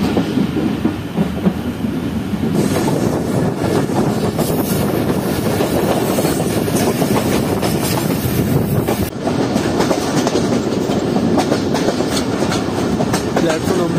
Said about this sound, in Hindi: दोस्तों 1:30 बजे जो है हमारी ट्रेन को अप्रोच बना रही है रोड़ी जंक्शन रेलवे स्टेशन पर।